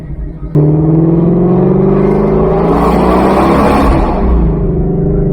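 A Shelby GT350 running on E85 revs its engine to about 3,500 RPM, giving a loud, steady roar with a rising growl heard from inside the cabin after a sudden start.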